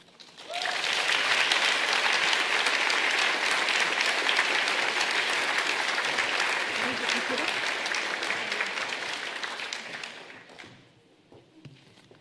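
An audience at an English teaching gathering breaks into applause that starts abruptly, stays dense and even for about nine seconds, then fades out, leaving quiet room noise with scattered voices.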